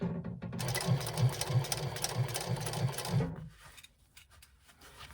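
A sewing machine stitches two lined-up vinyl edges level with a lining. A close, rapid, evenly pulsing run of stitches stops about two-thirds of the way in, leaving near quiet.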